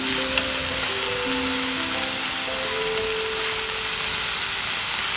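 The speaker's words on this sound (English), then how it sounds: "just stir fry these mushrooms." Oyster mushrooms stir-fry in a hot pan with a constant, loud, close sizzle and hiss, a faint tonal hum underneath and no talking.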